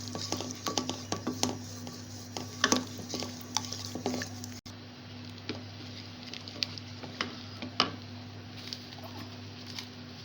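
A spoon stirs black pepper into a thickened creamy white sauce in a pan, making soft scraping and tapping sounds over a low steady kitchen hum, with gentle bubbling in the background.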